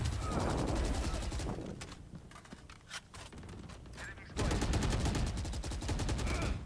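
Gunfire in Valorant, rapid bursts of automatic shots in two loud stretches with a quieter gap of scattered single shots between them.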